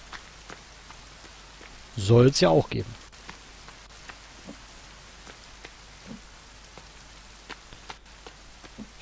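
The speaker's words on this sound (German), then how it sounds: "Okay, es fängt an zu regnen" Rain falls in the survival video game The Forest, a faint steady patter of scattered drops. A voice speaks briefly near the start.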